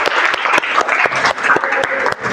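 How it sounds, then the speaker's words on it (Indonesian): A class of students claps together loudly and closely, a dense burst of applause with distinct sharp hand claps punctuating it throughout. "tepuk tangan untuk kita semuanya"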